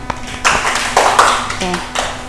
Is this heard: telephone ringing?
no